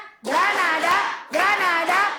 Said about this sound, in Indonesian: Oke, tepuk Granada.